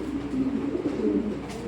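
Red checker racing pigeons coo in a low, steady rumbling murmur, continuous and fairly close, with no talking over it.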